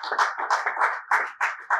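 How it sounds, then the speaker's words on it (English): Scattered hand clapping comes from a small audience at a leadership conference in Lagos, in irregular bursts that sound close and thin rather than like a large ovation. "we can do better in a round of applause"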